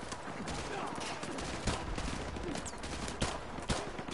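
Heavy gunfire in Call of Duty: Modern Warfare 2 Remastered, a dense battlefield barrage with a few sharp nearby shots punching through, loud and continuous.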